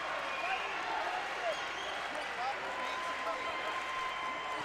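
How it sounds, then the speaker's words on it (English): A high school basketball crowd at Science Hill roars in a sectional playoff game against Maryville, a steady wash of cheering and noise from the gym stands with an announcer talking over it. "Crowd at Science Hill making some more noise"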